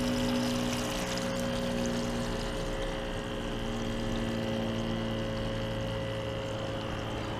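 Water pours steadily into a bell siphon grow bed in a winter hydroponic setup, a constant rushing flow under a low, even pump hum, close by with no talking.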